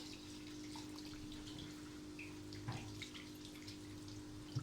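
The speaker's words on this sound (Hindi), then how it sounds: "इसमें मैं पानी डालने लगी हूँ," Water poured from a glass into a pot of chicken and capsicum curry, a soft, close splashing trickle with a few drips, faint against a low kitchen hum.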